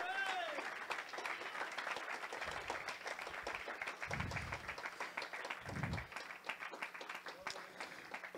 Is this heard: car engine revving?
no